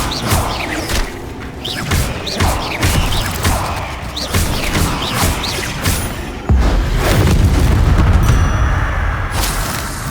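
Bombarda spell explosions and blasts from combat in Hogwarts Legacy, a string of sharp booms and crashes amid a loud, busy battle, with a heavier rumbling blast swelling near the end.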